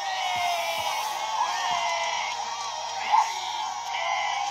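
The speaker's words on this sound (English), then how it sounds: "Focus on the voices who are cheering for us." A crowd in an anime arena cheers, whoops and yells in a continuous, loud roar of many voices with occasional louder shouts rising out of it.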